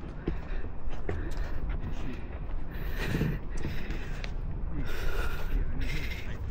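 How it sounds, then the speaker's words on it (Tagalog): Heavy, rapid breathing from someone climbing One Tree Hill in Cornwall Park, New Zealand, a loud close panting rhythm mixed with footsteps and outdoor noise. "Hingal ako."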